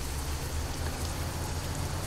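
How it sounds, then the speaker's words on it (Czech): Steady rain pours down in the truck-driving game Euro Truck Simulator 2, a dense continuous hiss with an even patter of drops and a low engine-like drone underneath, unbroken throughout. "já úplně cítím, jak mi prší na ruce"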